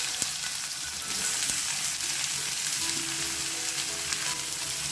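Sliced onions fry in hot oil with mustard seeds, cumin and asafoetida, giving a steady close sizzle with faint crackles and a few stirring clinks throughout, without any talk.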